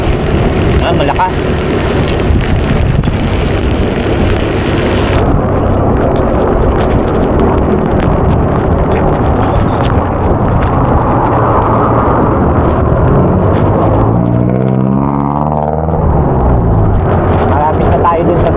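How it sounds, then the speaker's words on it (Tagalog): Heavy rain drums on a moving vehicle during a drive near Calaca, a loud constant roar of rain and road noise, with people talking over it. "Malakas na naman ang ulan."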